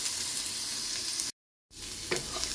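Ginger sizzling and frying in a pan as a sautéed base for shrimp and misua patola soup, a steady close hiss broken by a brief silent gap, then resuming with a small stir.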